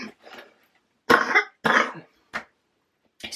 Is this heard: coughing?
yes